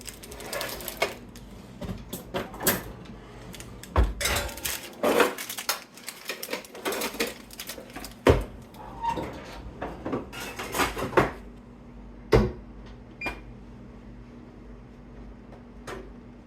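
A baking tray of Christmas candies slid into a home oven amid kitchen clatter, with scattered metallic clanks and bangs, a rattling door and a few sharp knocks over roughly sixteen seconds.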